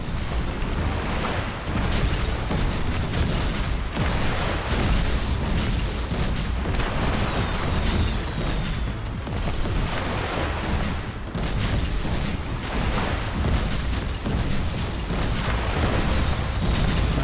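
Constant cannon blasts and explosions boom through a pirate-sea level of the video game Skylanders: Spyro's Adventure, a dense, loud barrage of deep bursts with no pauses.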